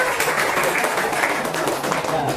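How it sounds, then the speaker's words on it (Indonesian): Classroom applause for a student group presenting on Islamic inheritance calculation, steady scattered clapping from many hands filling the room at moderate volume, with some voices mixed in. "Tepuk tangan untuk kelompok."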